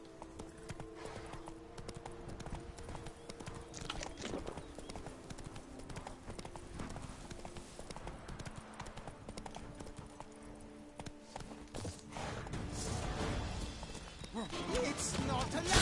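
Horse hooves galloping in The Witcher 3: Blood and Wine, a steady rapid clip-clop that carries on throughout and swells toward the end, with some voices and game sounds mixed in.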